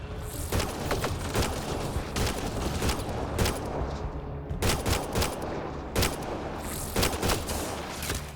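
Gunfire in the sci-fi shooter game Mass Effect Andromeda: bursts of rapid shots and sharp cracks over a constant combat din, loud and close, with a brief lull in the middle.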